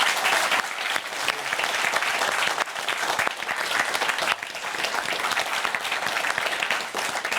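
A festive crowd at a scoring event bursts into loud, continuous applause, a thick wash of clapping with a few sharper surges that carries on without pause for the whole stretch.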